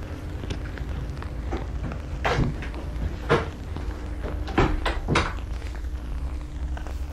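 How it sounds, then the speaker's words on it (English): A shower room door in a capsule hotel in Japan is pushed open, giving several close, hollow knocks and clunks spread over a few seconds against a steady low room hum. "there are separate shower rooms, which I'm like, oh, I don't know how to get in, but you push the door in."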